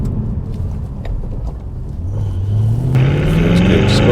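An Aston Martin V8 Vantage race car with a light flywheel drives under load, its engine drone rising steadily in pitch as it accelerates, loud and close from inside the cockpit, with no talking.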